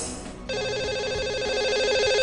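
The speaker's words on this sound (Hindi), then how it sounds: "तो लगाते हैं इन्हें अब कॉल और करते हैं बात।" A telephone rings out on a line while a call is placed to a radio show caller, starting with a short dial tone and then a steady, loud repeating electronic ring pattern, with no talking.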